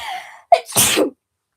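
A single sharp sneeze, close and loud, with a short sharp intake first and then a breathy burst.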